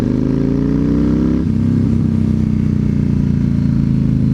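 A Yamaha Raider with a 113-cubic-inch engine, riding at about 30 mph in second gear, pulls hard on a throttle roll-on. The loud, close engine drone rises steadily in pitch with a rumbling exhaust throughout.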